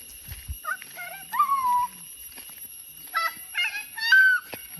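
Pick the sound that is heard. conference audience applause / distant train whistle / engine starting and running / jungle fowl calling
jungle fowl calling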